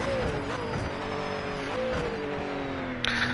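A Japanese GT500 race car in a racing video game revs steadily with a rising and falling engine drone, loud and continuous, and a brief hiss near the end.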